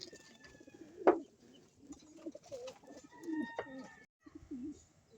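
Soft, low cooing of a homing pigeon repeats in short throaty phrases, fairly close, with faint chirps and background noise.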